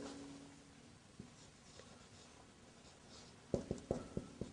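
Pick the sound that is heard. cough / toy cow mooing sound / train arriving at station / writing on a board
writing on a board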